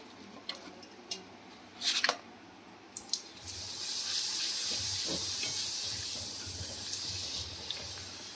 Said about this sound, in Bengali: এবারে কি করব, কড়ার মধ্যে তেল দেবো, দিয়ে হালকা করে ভাজবো।